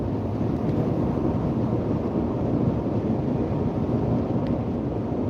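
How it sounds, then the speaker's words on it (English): Strong wind on a sunny, clear day buffets an outdoor microphone, a loud, steady roaring rumble that fills the whole clip without letup. "Very windy."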